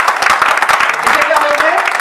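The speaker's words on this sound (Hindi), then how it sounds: "एक ताली हो जाए" An audience applauds loudly in a hall, with a dense patter of claps continuing steadily and a voice talking over it.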